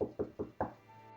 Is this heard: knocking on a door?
yes